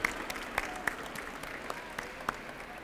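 Scattered applause from the audience at an architecture graduates' 25th anniversary ceremony. It comes as sparse, separate claps at a modest distance and fades rather than building.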